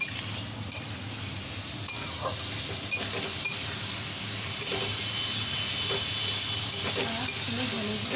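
Spice paste fries in a pan with a steady sizzle, broken by occasional stirring scrapes and light clinks of a utensil against the pan. A low hum runs underneath throughout.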